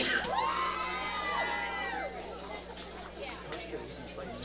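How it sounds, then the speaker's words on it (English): A high school varsity baseball crowd cheers for a baserunner, with shrill children's shouts and whoops rising over chatter before settling into a quieter babble of voices. "Sounds like Joe Turnbull might have a cheering section."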